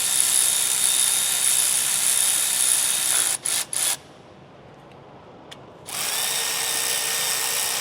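Power tool tightening the bolts on an aftermarket front 4x4 differential cover of a Ford truck, a loud sustained whine broken by short bursts, then quiet, then the whine resumes.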